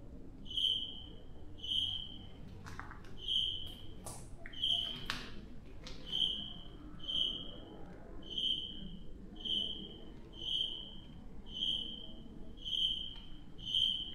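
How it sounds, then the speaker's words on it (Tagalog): A cricket chirps at night in the Philippines, a close, evenly paced run of bright pulses roughly once a second, with a few sharp taps scattered early on over a faint low rumble. "Maririnig nyo lang talaga kuliglig guys, oh."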